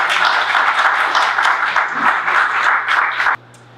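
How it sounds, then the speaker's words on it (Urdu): Steady, dense applause from an audience at a 2023 mushaira poetry gathering in a masjid fills the room loudly, then cuts off abruptly near the end. "آپ لوگوں کی بھرپور تالیوں میں"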